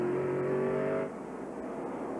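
Racing pickup trucks roar at speed, a loud sustained engine drone with a steady tonal whine that drops abruptly about midway as a gear change cuts in, then continues at a lower, rougher pitch.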